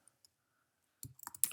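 Keys tapped on a computer keyboard while a product description for a silk sequined printed camisole top is typed in, a few faint isolated clicks and then a quick, close burst of typing.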